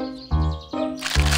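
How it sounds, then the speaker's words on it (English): Cartoon sound effects of baby birds cracking out of their eggs in a nest up a tree: three sharp, close cracks and crunches in quick succession, with faint chirpy tones between them. "It was the sound of the baby birds coming out of their eggs."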